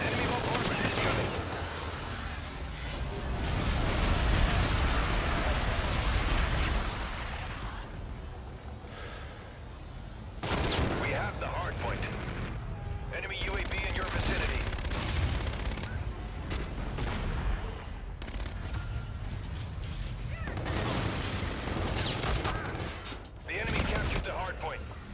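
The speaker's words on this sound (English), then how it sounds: "Enemy bombardment incoming" Explosive bombardment, artillery blasts and rapid gunfire fill a Call of Duty: Infinite Warfare multiplayer match, with dense, loud bursts rolling almost continuously alongside mechanical clatter and intermittent voice callouts.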